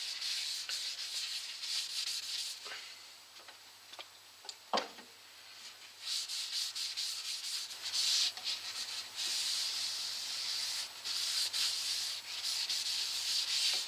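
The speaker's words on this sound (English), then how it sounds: "After you've done the oil, a bit of wood turner's lathe polish goes on." Wood turner's lathe polish is rubbed onto a spinning lime wood bowl on a lathe, giving a soft, continuous hissing rub with small ticks and scuffs at close range.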